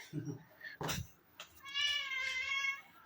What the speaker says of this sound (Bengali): মেয়া মেয়া করছে।